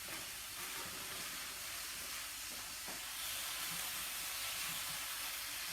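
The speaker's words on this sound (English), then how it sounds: "I'm going to chuck some water in there." Boiled water from a kettle is poured into a hot pan for pad thai, making a steady broadband hiss and sizzle with faint bubbling that lasts the whole time, close but fairly quiet, with no talk.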